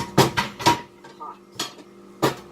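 Pots and pans clatter in a home kitchen during keto grilled cheese prep, with several sharp metallic clanks and knocks spaced across the moment, close and fairly loud, and a voice speaking between them.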